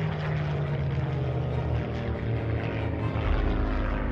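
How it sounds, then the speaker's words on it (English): The engine of a Supermarine Spitfire, a British WW2 fighter plane, drones loud and steady as a continuous propeller roar, with the low hum shifting slightly in pitch near the end; no voices. "The aeroplane in this case is a Supermarine Spitfire."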